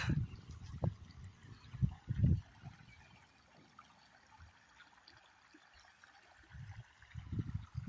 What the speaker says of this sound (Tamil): தண்ணி மண்டி செடியாக தான் பாயுது.